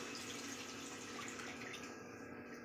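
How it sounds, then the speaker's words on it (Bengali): Water left from boiling rohu fish is poured into fried masala in a pan, a continuous, fairly quiet rush of liquid for a couple of seconds with no talking. "যে মাছ সিদ্ধ করে রেখেছি, ওইটার জল আমি, অন্য জল দেব না, এইটার জলই এইটাই ঢেলে দেবো।"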